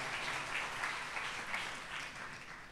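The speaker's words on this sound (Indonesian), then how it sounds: "sekarang kasih tepuk tangan buat semua teman-teman yang sudah melayani" Applause from a church congregation, a steady dense wash of many hands clapping at moderate distance, fairly quiet and continuous with no voices over it.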